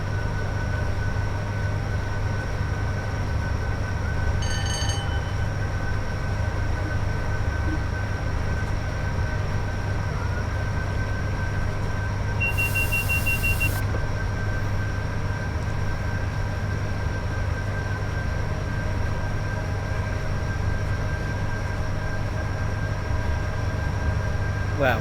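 A Class 87 electric locomotive runs at full throttle in the Train Sim World 5 game, producing a steady, sustained traction drone and rumble with a constant high whine. A brief tonal chirp and a short burst of hiss pass partway through.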